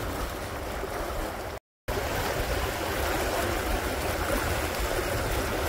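A Neel 52 trimaran under sail at about six to seven knots, windward hull lifting clear, sends up a steady, loud rush of water and wind noise, broken once by a short silent gap.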